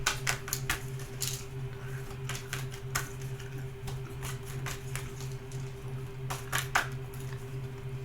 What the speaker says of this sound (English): I'm just going to keep shuffling these cards